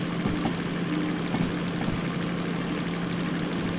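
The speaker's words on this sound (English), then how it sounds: "Engine revs are very happy, probably at the limit almost." A DM3 locomotive engine in the Derail Valley train simulator revs hard and steadily near its limit, a loud continuous low diesel drone with no talking over it.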